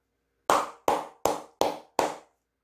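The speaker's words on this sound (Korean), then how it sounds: "박수 한번 치고 가도록 하겠습니다" Five sharp, evenly spaced hand claps ring out one after another, each crisp and close with a short decay, followed by a moment of quiet.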